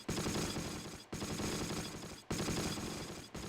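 Rapid gunfire crackles in the World War II strategy game Close Combat, three continuous stretches of dense, distant-sounding shots cut by brief gaps, quiet overall with no talking.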